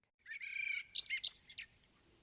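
Baltimore oriole song: a series of clear, loud whistled notes and chirps, sustained at first and then breaking into short rising phrases, heard close and alone before fading into quiet.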